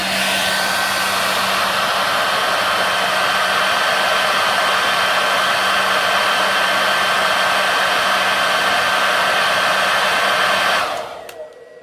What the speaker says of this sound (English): Now I'm going to use this high-powered hairdryer here and warm the cells up.